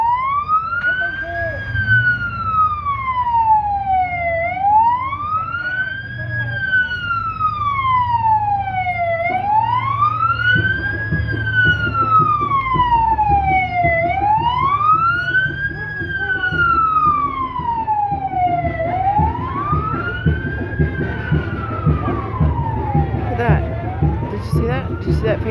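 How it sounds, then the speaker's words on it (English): Police or emergency vehicle siren wailing in a steady rising-and-falling cycle, loud and close, over rumbling road traffic, with people talking in the background. "I got my blue and red lights and my siren."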